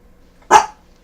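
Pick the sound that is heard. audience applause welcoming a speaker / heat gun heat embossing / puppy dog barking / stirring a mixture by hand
puppy dog barking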